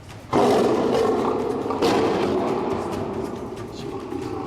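A zoo lion gives a sudden, loud roar that starts abruptly, swells again partway through, then trails into a low, rumbling growl.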